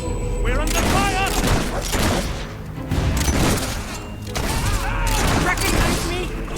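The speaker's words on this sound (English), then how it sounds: "We're under fire!" Battle gunfire in the video game Fable 3: dense volleys of shots and heavy booms roll on throughout, mixed with shouting voices and game effects.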